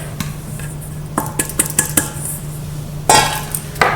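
A bowl is set down and flour is added while making pizza margherita dough, giving a string of close clinks and knocks of kitchenware followed by a soft, brief pouring rustle.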